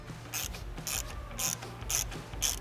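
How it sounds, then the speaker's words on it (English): Screws on a C8 Corvette magnetic paddle shifter install being tightened by hand, five crisp ratcheting clicks spaced evenly about half a second apart over a low background hum, close and fairly loud. "And just tighten these bolts up to where they are snug."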